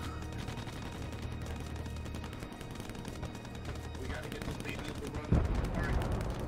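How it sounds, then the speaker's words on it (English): Heavy artillery fire in Starship Troopers: Extermination, a dense, continuous rumble of overlapping blasts and booms, loud and sustained, with a sharper heavy impact near the end. "Heavy artillery fire!"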